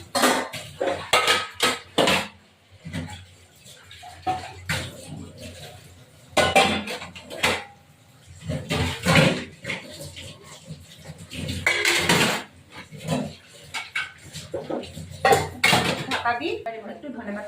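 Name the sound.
lid being put on the pot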